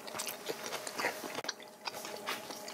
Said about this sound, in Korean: 김밥을 찍어 먹어.